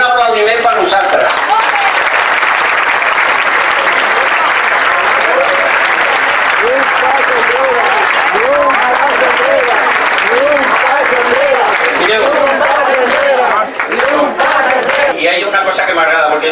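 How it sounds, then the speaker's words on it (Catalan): A large crowd of elderly people at Montserrat applauds, a loud, sustained wash of clapping with scattered cheers and voices over it, easing slightly near the end. "Un aplaudiment per vosaltres"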